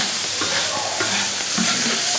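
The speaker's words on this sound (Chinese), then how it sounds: "放姜蒜、辣椒、胡萝卜、花椒。 刚刚放下给炒一下" Ginger, garlic, chili, carrot and Sichuan pepper stir-fry in a hot wok with a loud, dense, continuous sizzle, close and dominant throughout.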